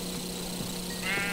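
A video-game sheep bleats once in a short, moderately loud call over a steady background hum, with no talking.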